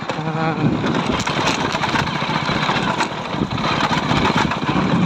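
A motorbike engine runs steadily while riding one-handed on a road between Bhavadigi and Kamarpukur, a continuous loud drone with wind rush and no pauses throughout.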